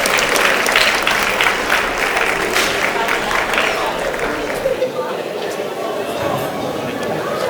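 A hall audience at a film festival awards ceremony gives loud, sustained applause for an award winner, a dense wash of clapping with some crowd chatter mixed in throughout.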